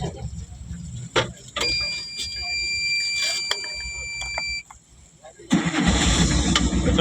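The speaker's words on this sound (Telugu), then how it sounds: "మన బండి ఇప్పుడు బయలుదేరుతుంది" Diesel vehicle engine turning over and catching, then a steady low rumble as it pulls away, with a surge of louder engine noise near the end and a thin electronic tone partway through.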